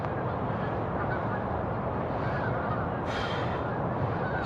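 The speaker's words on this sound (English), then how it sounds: "there's a flock of geese behind me" Honking from a flock of geese at an outdoor workout spot, heard as a steady wash of calls that stays fairly distant behind a constant broadband outdoor background for the whole stretch.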